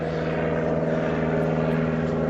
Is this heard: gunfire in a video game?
no